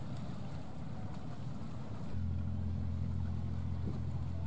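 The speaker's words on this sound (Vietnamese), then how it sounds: "như vậy là chiếc ghe lưới bao đã neo đậu xong này" Purse-seine fishing boat settling at anchor in a Ninh Thuận fishing port: faint wind and water wash, then a steady low diesel engine drone sets in partway through, even and moderately close.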